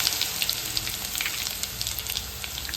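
Garlic crackles in hot oil with asafoetida and cumin for a Kathiyawadi tempering, a close, busy sizzle with quick popping spatters throughout.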